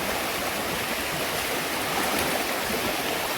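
A strong river current rushes in a steady, dense roar along the San Mateo to Montalban loop via Casili. It is close and constant, with no voices.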